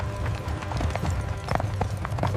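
Horses' hooves clip-clop on a Roman road, a brisk run of irregular near strikes over a low rumble, with no voices.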